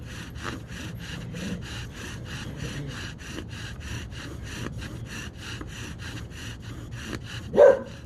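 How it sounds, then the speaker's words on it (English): Bow drill with an Osage orange spindle grinding against an ash fireboard under a fatwood bearing block, a steady rhythmic back-and-forth rasping that runs the whole time, close and even, with a brief louder squeak near the end. "it's taking a fair amount of pressure to get any sawdust off of there. So I'll work this a little bit."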